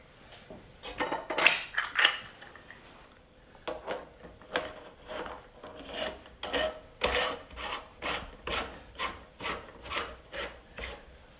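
A sausage stuffer being loaded with venison salami mix and its handle fitted, giving a run of scraping, rubbing metal clatters, first a busy cluster and then a steady series of evenly spaced scrapes, close and clear with no talk.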